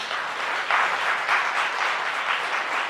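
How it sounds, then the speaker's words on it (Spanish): Congregation applause during a church service on December 31, a steady dense wash of clapping that stays even and fairly loud for a few seconds, with no talk over it. "Vamos a dar un fuerte aplauso a Papá Dios"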